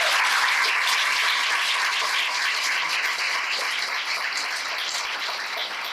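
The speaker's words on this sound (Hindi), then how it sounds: "जोरदार ताली बजाना परमेश्वर को।" A church congregation claps loudly during a Sunday service, a dense, steady burst of applause that fills the room throughout.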